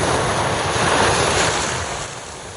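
An app plays a recording of ocean waves, a broad steady surf wash that swells slightly and then eases off, even and continuous with no other sounds.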